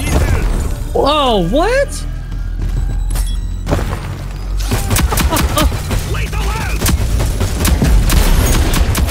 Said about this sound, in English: My own grenades got me.